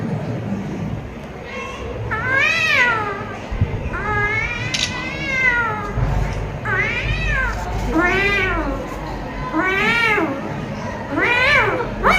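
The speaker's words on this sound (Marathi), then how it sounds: "एक मांजर ओरडते दुसरी मांजर येते" Several drawn-out cat meows, one after another at a steady pace, loud and close, over faint background noise.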